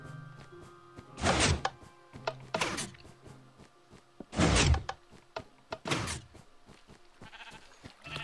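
In Minecraft, a wooden door opens and closes amid sheep bleating and goats, with brief creaky door sounds at the start and end and several loud bleats in between, all fairly close and with no talking.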